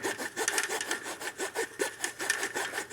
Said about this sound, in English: See how much the blade is being slanted relative to the piece that we're sawing.